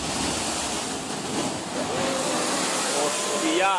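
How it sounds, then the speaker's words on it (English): Ocean waves pound the coastline at Surat, a steady loud roar of surf and wind that fills the whole stretch without pause, with brief whistling tones rising near the end. "The fierce pounding of the waves damaged many coastal areas"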